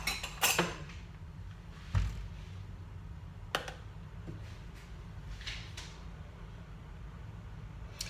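A butter knife clinks while buttering toast, with a few sparse metallic taps and light scrapes spread apart over a quiet room, and no one speaking.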